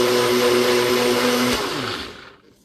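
An electric blender whirs loudly and steadily while blending coleslaw dressing, its motor note then winding down and fading to quiet at the end.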